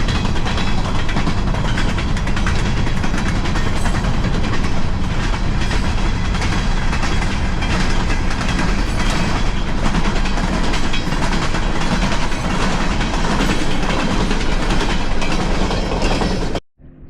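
A freight train rolls past in Kings–Tulare County, California, a loud continuous rumble and rattle of railcars that holds steady for about sixteen seconds before cutting off abruptly.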